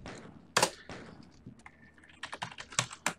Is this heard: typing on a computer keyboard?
yes